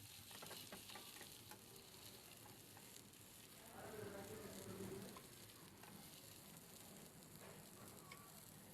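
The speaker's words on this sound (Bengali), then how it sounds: "মাছ মশলা মাখিয়ে এখন ভেজে নিচ্ছি ভালো করে।" Fish coated in spices frying in hot oil in a pan, a steady dense sizzle running throughout, briefly louder in the middle, with no talk.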